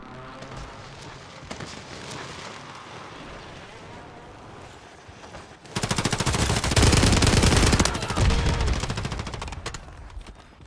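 Sustained automatic gunfire from the video game Call of Duty, a loud dense burst of rapid shots that swells after a quieter stretch and keeps rattling for several seconds, with a voice talking over it.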